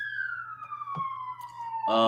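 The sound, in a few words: police siren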